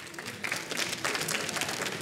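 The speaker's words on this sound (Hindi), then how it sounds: "करण के लिए प्लीज जोरदार तालियां" Studio audience applause on a Hindi comedy show with Kapil Sharma, a steady dense patter of clapping that stays even and moderately loud throughout.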